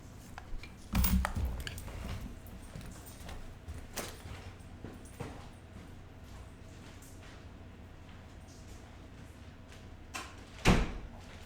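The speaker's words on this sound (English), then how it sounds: "I gotta close that bathroom door" Nearby in a quiet room, a bathroom door is pushed closed: soft handling clicks and a thump early on, then a louder latching knock near the end.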